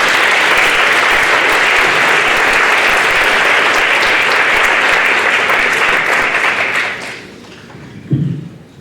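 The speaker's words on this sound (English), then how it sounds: "Can I get another huge round of applause" Loud, dense audience applause at a youth conference lecture, sustained for several seconds before tapering off, with a single thump near the end.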